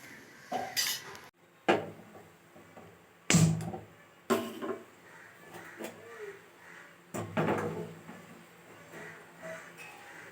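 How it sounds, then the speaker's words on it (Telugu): Dishes, pots and pans are scrubbed and handled in a home kitchen, with intermittent metallic clanks and knocks separated by quieter stretches of rubbing and rinsing. "ఈ సామాన్లు కూడా అయితే తోమేసుకుంటాను"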